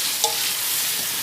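Tomatoes cooking in oil with masala in a pan for aloo chicken, a loud, steady sizzle with a brief clink of a stirring spoon near the start.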